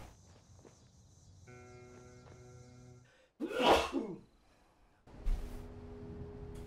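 A person lets out one loud, sharp sneeze close to the microphone, with a quick intake of breath before it, over quiet background sounds from the video game Fallout 76.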